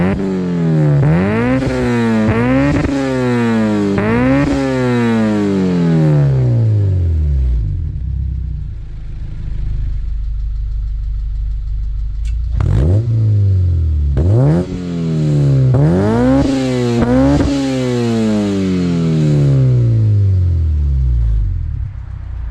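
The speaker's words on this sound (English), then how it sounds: "the modified Go Power exhaust, even with the new muffler, was still substantially louder." A Honda Civic FA5 with a modified Go Power exhaust revs hard in repeated sharp bursts, each rising and falling, then idles with a low rumble before a second cluster of loud revs; close and loud, with no talk.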